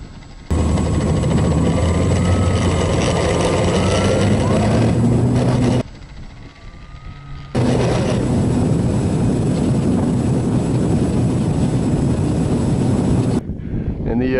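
A small electric E-flite Apprentice 15e model plane whines and buzzes steadily in flight with wind rushing over the microphone, cutting out briefly midway before the motor drone resumes.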